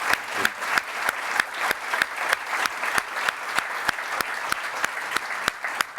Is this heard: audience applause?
yes